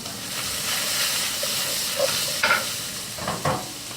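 Garlic sizzling in a hot pan for a vegan dinner gives a continuous loud frying hiss, close up, with a few small pops and clinks near the end and no talking.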